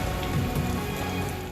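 Heavy rain pours down in Karachi, a dense, steady hiss of drops striking surfaces with no let-up, loud and close throughout.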